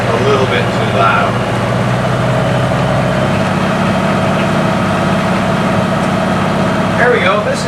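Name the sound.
classic powerboat engine cruising at 2,000 RPM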